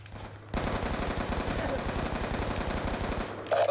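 Sustained rapid automatic gunfire in Call of Duty Black Ops 2, a loud continuous burst of machine-gun shots lasting about three seconds, starting abruptly after a quieter lead-in and cutting off near the end.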